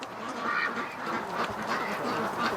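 A flock of ducks quacking in a pen, with repeated overlapping calls running through the whole stretch at a steady close range, with no talking.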